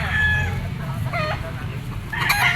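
Gamefowl stag rooster of a Sweater line crowing loudly and close, with harsh broken calls and clucks across a short stretch and no talking.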